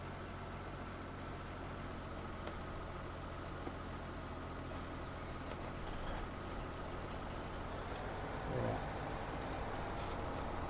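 Heavy truck engine rumble from a tractor and semi-trailer driving in Farming Simulator 17, a steady continuous drone with a brief hiss near the end.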